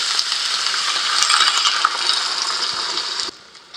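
Vinegar poured into a cooking pot while making paksiw na bangus with pork liempo gives a steady, close liquid splash and rattle that stops abruptly near the end.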